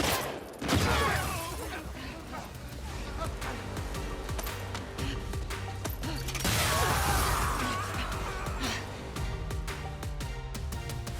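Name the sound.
fire extinguisher explosion in video game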